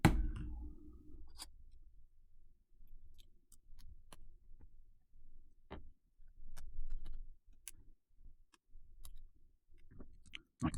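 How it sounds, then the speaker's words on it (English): Small screws being undone on an opened MacBook Pro with a crater in the back of the keyboard: faint, sparse metallic clicks and ticks against a quiet background, with no talking. "I'm just going to undo the screws."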